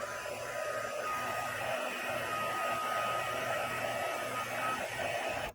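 A heat tool blows hot air onto embossing powder during card making, a steady loud whooshing hum that runs without a break and cuts off at the end.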